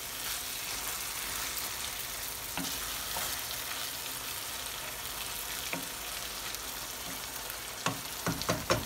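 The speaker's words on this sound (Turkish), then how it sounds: "Sonra zeytinyağıyla bir karıştırıp fıkırdamasını sağlayacağız." Tuna sauté bubbling and sizzling in olive oil in a pan, a steady close frying hiss with a few sharp stirring clinks and scrapes toward the end, no voices.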